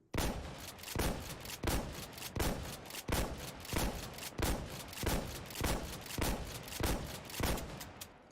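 Shotgun firing in the video game Insurgency: Sandstorm, about a dozen loud, sharp blasts in a steady rhythm roughly every half second, some following each other closely, with no voice over them.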